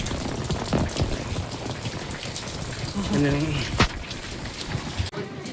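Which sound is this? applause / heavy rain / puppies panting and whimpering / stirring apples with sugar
heavy rain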